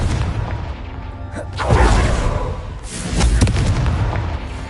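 Video game spell combat: a Confringo blasting spell goes off as two loud booming explosions in quick succession, each a deep rumbling blast with a crackling tail.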